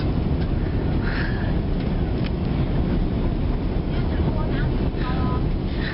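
A steady, loud roar of cabin noise fills a plane in flight, constant throughout with faint voices murmuring underneath.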